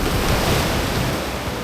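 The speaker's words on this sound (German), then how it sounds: "Direkt vor der Küste kann man sehen, wie die Wellen beider Meere gegeneinander stoßen." Surf at Grenen, where the waves of two seas run against each other, rolls as a steady, loud wash of breaking water with some wind noise on the microphone and no talk.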